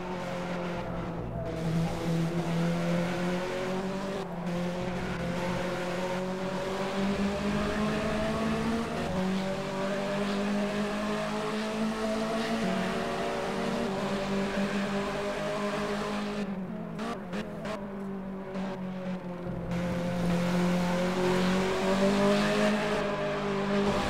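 BMW 320 Cup race car at full race pace on the Brno circuit, its Akrapovic-exhausted engine droning loudly and continuously with shifting pitch as revs rise and fall through gear changes, no talk over it.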